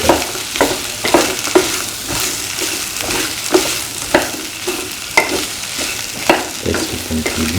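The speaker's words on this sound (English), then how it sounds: "Thoroughly saute and mix." Plantain and cashew stir fry sautés in a pan, a loud close sizzle broken by repeated sharp scrapes and clacks of a spoon stirring at an irregular rhythm, with no voices.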